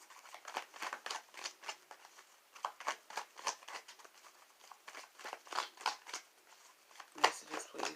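Tarot cards being shuffled in the hands, a rapid series of close, crisp riffles and slaps in uneven bursts, repeating across the whole stretch with brief pauses between.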